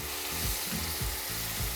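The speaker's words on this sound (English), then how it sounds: "I'm going to do a deglaze with white wine." White wine hits a hot risotto pan of rice, butter, onion and garlic, making a loud, close, continuous sizzle with rhythmic scraping strokes of stirring, no voices.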